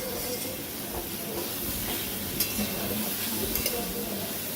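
Bitter gourd and potato pieces stirred with salt in a pan make a quiet, continuous scraping and soft sizzle, with a few light knocks near the end.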